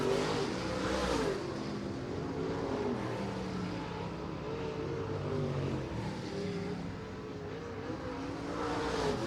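Late model race cars roar around Merritt Speedway in a heat race, a continuous blended engine drone rising and falling as the field passes at moderate distance.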